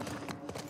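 Horse hooves clip-clopping in The Last of Us video game, a short run of a few quick, close hoof strikes over a dull background rumble.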